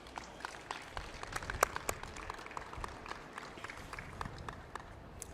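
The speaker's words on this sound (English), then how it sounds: "One more round of applause for Josh." Scattered, fairly quiet applause from a small crowd honoring a rookie at a Missouri Wiffleball All-Star Game at Ballpark Village, St. Louis, with uneven individual claps and a few sharper peaks throughout.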